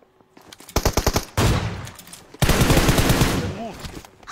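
Uzi fire in a video game comes in rapid automatic bursts. A short rattling volley is followed by longer sustained streams of shots, loud and close.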